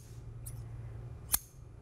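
A pair of fine, sharp scissors snips twice close to the mic, the second cut crisper and louder, against a quiet room.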